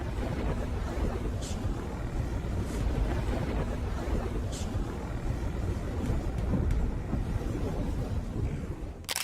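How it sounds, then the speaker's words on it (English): The Canadian tugboat Seaspan Commodore, towing a crippled vessel, rides out a ferocious storm: constant roaring wind buffets the microphone over crashing waves and surging water, with no talk. "Canadian tugboat Seaspan Commodore battles ferocious storm while towing crippled"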